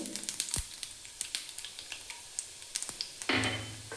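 Mustard seeds, cumin, urad dal and chana dal fry in hot oil with constant crackling sizzle and sharp popping ticks scattered throughout, close and fairly loud, with no voices.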